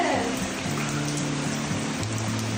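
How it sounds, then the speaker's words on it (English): Rain pours steadily onto a house roof and leaks through inside, a dense, continuous close hiss of patter with a faint low tonal hum beneath. "And it's still raining inside."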